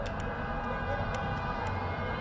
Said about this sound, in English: Air raid sirens sounded across Tel Aviv and Jerusalem